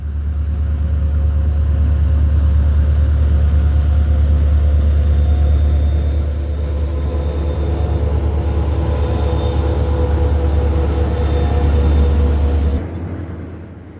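Rebuilt Illinois Central diesel locomotive, one of the older diesels rebuilt at the Paducah, Kentucky shops, running with a loud, steady low engine rumble and rail noise throughout before cutting off abruptly near the end.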